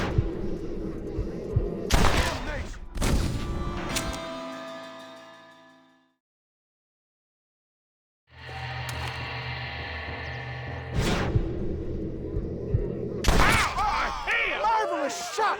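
Gunshots in a Red Dead Redemption shootout ring out as separate sharp cracks in pairs, split by a silent pause, over a humming music bed.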